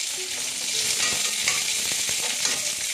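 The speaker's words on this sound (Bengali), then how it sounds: "সর্ষে, কাঁচা লঙ্কা আর কারি পাতা ফোড়ন দিলাম।" Mustard seeds, green chili and dried curry leaves hit hot oil for a dhokla tempering, producing a bright, dense sizzle with quick popping crackles throughout, close and steady with no speech.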